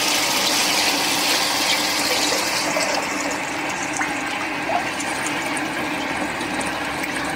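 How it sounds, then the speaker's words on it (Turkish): Water and liquid fertilizer pouring into a fertilizer tank for organic strawberry growing, a steady loud gushing rush with constant flow throughout. "Şu an gübre tankımıza 150 cc'lik EGOK gübremizi koyuyoruz."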